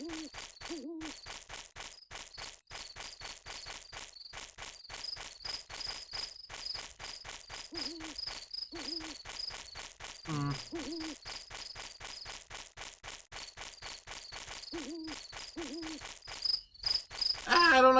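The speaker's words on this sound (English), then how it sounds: "Ah, I don't like the loud crickets." Loud crickets chirp in a dense, continuous pulsing rhythm through a nighttime scene in the video game Chulip, with an owl-like hoot recurring in short pairs underneath.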